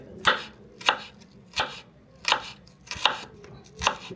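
A knife chops through an onion on a board in six crisp, evenly spaced cuts. The strokes are close and distinct, with quiet gaps between them and no speech.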